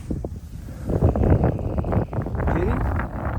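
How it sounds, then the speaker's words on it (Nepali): Wind gusts across an open hilltop at Crickley Hill, Gloucester, a steady rushing buffet on the microphone rising and falling over a few seconds. "फेरि हावा चलेको छ"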